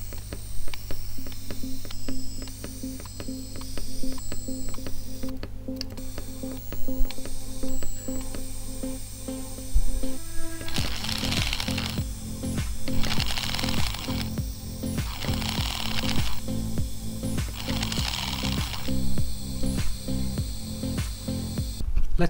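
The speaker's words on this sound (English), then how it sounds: "Now to see if the motor works when connected to a DRV8825 driver." A modified 28BYJ-48 stepper motor driven by a DRV8825 driver, giving a steady whining tone with a faint ratcheting buzz that shifts into repeated hissy pulses partway through, close and alone with no talking.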